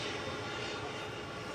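Boeing 777 jet engines taxiing at Manchester Airport, a steady, dense broadband roar that holds evenly through a brief stretch, close and loud with no voices.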